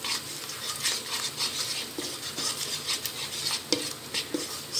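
Capsicum and onion are stirred into a masala in a pan for chilli egg masala, with a steady soft sizzle and repeated scraping and clinking of a spoon against the pan, close up with no talking.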